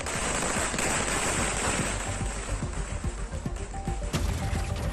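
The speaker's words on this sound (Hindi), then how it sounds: "पटाखे।" Firecrackers set off by supporters celebrating in the streets of Sindhudurg, Maharashtra, a dense, loud, continuous crackle of rapid bursts and pops over a roaring crowd-like din.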